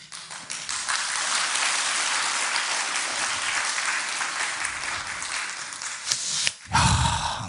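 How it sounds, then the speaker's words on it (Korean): Sustained audience applause in a church hall during an evangelism festival, steady dense clapping filling most of the clip, briefly dropping away near the end before a final burst. "이 대목에 박수 나오는데"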